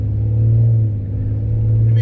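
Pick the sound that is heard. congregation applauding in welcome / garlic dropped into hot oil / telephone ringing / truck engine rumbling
truck engine rumbling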